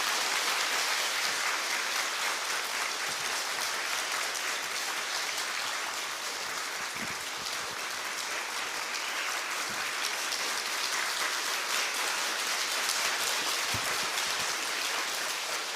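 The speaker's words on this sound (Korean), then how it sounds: "우리 박수로 한번 환영할까요?" A church congregation applauds to welcome the pastor during a Sunday worship service, a steady, dense clapping that fills the room throughout with no talk over it.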